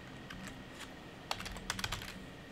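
Soft, fairly close keystrokes on a computer keyboard come in short bursts, with a quick flurry of typing in the second half against a faint background hiss.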